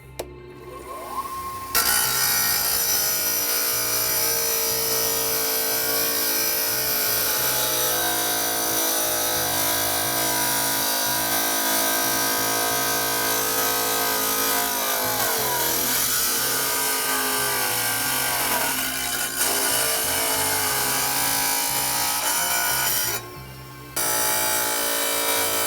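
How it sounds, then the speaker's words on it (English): A power saw cuts a 45-degree miter through wood for a rustic home remodel, running as one continuous loud whine for most of the stretch, with a short break near the end. "Okay, so now we cut the miter. Lift the table up to 45 and just set it right there."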